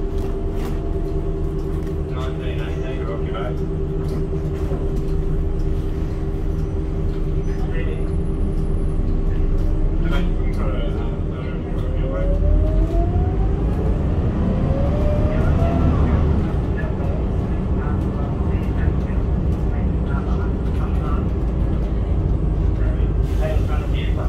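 A steady drone fills the inside of a short bus on the 555 route, with low engine rumble, rattles and a rising whine as it moves, heard continuously throughout.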